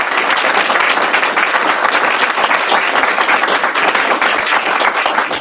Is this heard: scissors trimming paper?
no